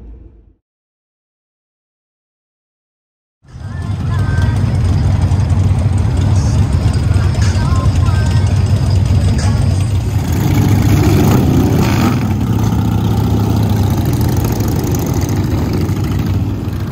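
A truck driving on the road after a drive from San Jose to Austin, its engine a steady low drone that holds throughout at close range, starting after a few seconds of silence.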